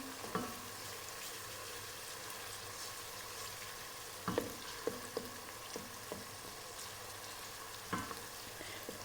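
Tomato paste and other ingredients sauté in a pan, a steady close sizzle and frying hiss broken by several sharp scrapes and taps of a wooden spoon stirring, with no talk.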